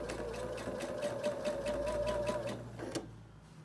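A sewing machine stitches along the very edge of quilt sashing, the fabric held in place with a stiletto: a steady, close mechanical whir of rapid, evenly spaced needle strokes that runs continuously, then stops abruptly near the end.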